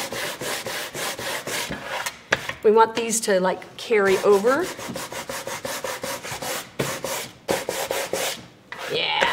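Steady back-and-forth rasping of sandpaper on the painted wood of a stove top cover noodle board, strokes close and rhythmic, with a person talking over them partway through.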